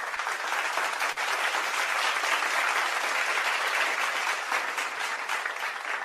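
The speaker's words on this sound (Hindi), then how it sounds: "चलिए, पूजा जी के लिए भी तालियां," Studio audience applause for Pooja during a radio antakshari game show, a continuous, even wash of clapping from many hands, loud and unbroken with no talk over it.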